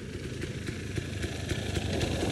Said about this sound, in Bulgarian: На Вани Оранецата искам да ви покажа как пали мотора